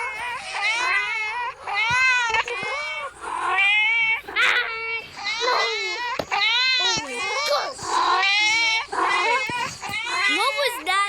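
Repeated meows voiced for cats in a nextbot video game, a string of high wavering calls one after another, loud and close, filling most of the stretch.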